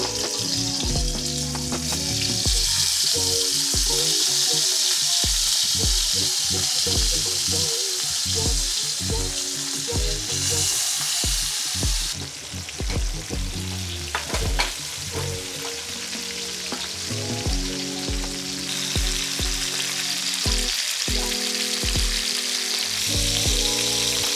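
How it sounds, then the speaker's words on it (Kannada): Marinated fish, Coorg style, frying in hot oil in a pan, giving a loud, steady sizzle that runs the whole time alone, with occasional clinks and shifts as pieces settle. "ಇಲ್ಲಿ ಫಿಶ್ ಫ್ರೈ ಆಗ್ತಾ ಇದೆ."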